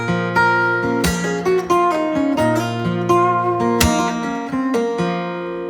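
Two bars are fingerpicked on acoustic guitar in 6/8, a close, clear run of plucked notes with accented strikes and ringing open strings.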